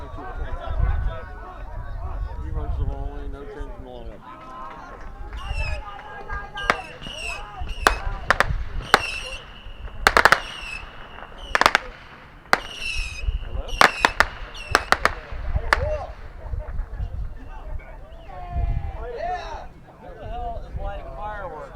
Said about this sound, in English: We are interrupted by some fireworks, we hope, over there.